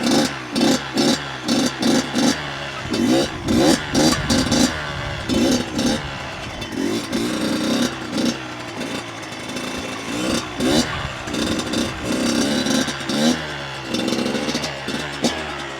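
A Kawasaki KX112 dirt bike engine revs repeatedly during circle wheelies, rising and falling throttle bursts in a steady rhythm, fairly loud and close with no talk.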